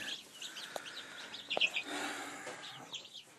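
Young chickens wander and peck about, giving soft scattered clucks and high chirps close by, with a couple of sharp taps and a brief louder burst of calls in the middle.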